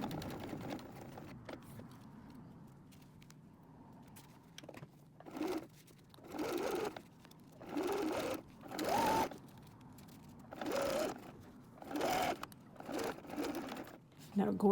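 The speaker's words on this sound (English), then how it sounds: "it's gonna kind of stick to your sewing machine" A sewing machine stitches through a cork wallet in roughly six short mechanical runs, each lasting about a second, with pauses between them. A person talks quietly before and between the bursts.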